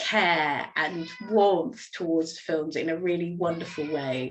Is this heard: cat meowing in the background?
yes